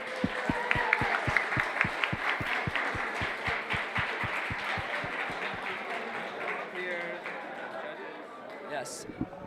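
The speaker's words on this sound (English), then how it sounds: "a huge round of applause for everyone who came" Applause at a VEX Robotics tournament for middle and high school teams, with steady rhythmic clapping from a crowd over murmured chatter, lasting several seconds and fading slightly toward the end.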